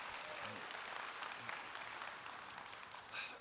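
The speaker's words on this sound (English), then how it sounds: "Yeah, clap it up, clap it up." Applause from an audience at an Ironheart panel with Dominique Thorne, a steady, fairly faint wash of clapping hands heard from a distance, rising a little near the end.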